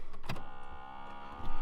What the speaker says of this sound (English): So that is, I think, the blower noise